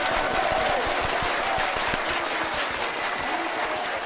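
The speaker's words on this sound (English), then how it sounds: "we're going to have a little clap from the Self-Isolation Choir" Members of a self-isolation choir give a short round of applause during a concert, a steady, even patter of many hands clapping.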